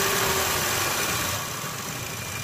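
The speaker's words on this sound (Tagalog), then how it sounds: "Tapos pa-start natin yung makina nito." Steady idle of a 2023 Toyota Camry engine, a smooth continuous hum that runs loud and close for the whole stretch before easing slightly toward the end, with no voices.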